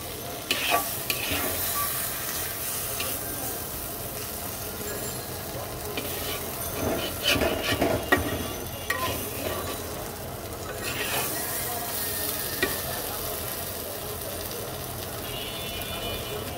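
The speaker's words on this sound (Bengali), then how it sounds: "দেখো আমার কিন্তু মশলাটা খুব সুন্দর করে কষানো হয়ে গেছে" A spice paste fries in a pan for a golsa fish curry with yard-long beans and potato, crackling and sizzling continuously while a spatula stirs and scrapes in bursts.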